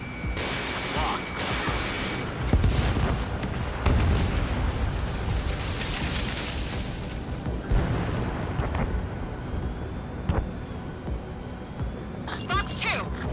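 Missiles launch and explode in the Ace Combat 7 combat flight game, a string of heavy booms and bursts over a roaring jet backdrop across many seconds, loud and near, with radio chatter between blasts.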